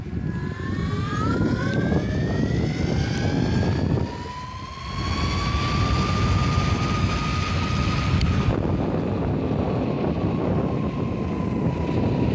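Motor of a homemade electric mountainboard running in its second speed, a loud whirring whine rising slowly in pitch over rushing wind noise, with a short dip in the middle.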